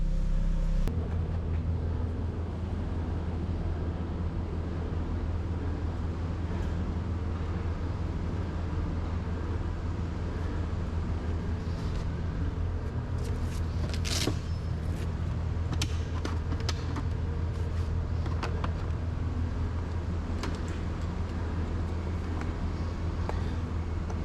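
A Ferrari F430 idles steadily and loudly from nearby, a low continuous engine drone that holds for the whole stretch, with a few faint clicks and knocks above it toward the middle.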